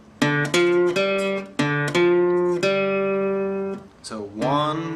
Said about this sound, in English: Play the 3rd string open again.